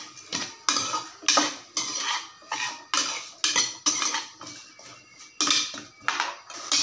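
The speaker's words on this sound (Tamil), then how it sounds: "இப்போ இதில் வெட்டி வச்ச காய் எல்லாத்தையும் வதக்கிக்கலாம். இதை நல்லா இதில் கலந்து விட்டுடலாம்." A spoon repeatedly scrapes and clatters against a metal pan while chopped vegetables are stirred and sautéed with half-cooked tomato for sambar rice, in a steady rhythm of close, loud strokes with no talking.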